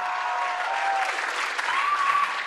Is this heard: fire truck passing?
no